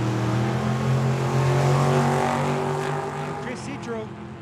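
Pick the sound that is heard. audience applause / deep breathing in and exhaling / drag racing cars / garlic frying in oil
drag racing cars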